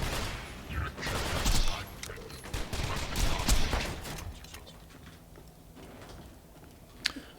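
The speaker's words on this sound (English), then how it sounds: "the Harold fires like a machine gun with all these fire rate boosts" The Harold pistol in Borderlands 2 fires rapidly like a machine gun with fire rate boosts, dense bursts of gunfire that thin out toward the end, with a sharp shot near the close.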